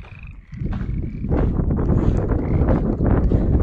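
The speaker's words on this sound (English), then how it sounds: "Listen to these crazy frogs. Like snow frogs." A dense chorus of frogs croaking beside a high mountain trail road, a continuous rattling mass of calls that swells after the first second, with wind buffeting the microphone throughout.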